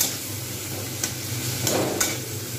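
Soft tomatoes being pressed and stirred with a metal spatula in a pan while cooking a Bengali rui fish curry with radish, giving a steady sizzle with a few sharp scraping strokes, close and moderately loud.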